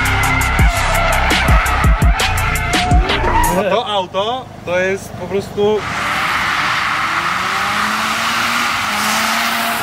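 A Mazda RX-7 drifts sideways with loud, near tire squeal and revving engine in repeated bursts, the screech fading into a long skid hiss while someone talks over it.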